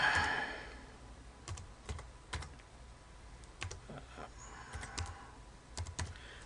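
Keys on a computer keyboard are tapped in short, scattered bursts of clicks, faint and close, with quiet pauses between the keystrokes.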